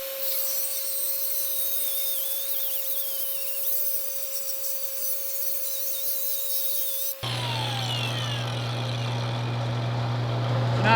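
A DuoDisc cutoff wheel slices through 1/8 inch wall, 1 1/4 inch steel tube with a loud, close, sustained high-pitched grinding whine, then the tone drops abruptly into a lower motor drone for the final seconds.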